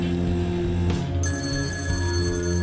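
A telephone rings in a point-and-click adventure video game, a steady electronic bell tone layered over continuous background music, brief and clear with no voices.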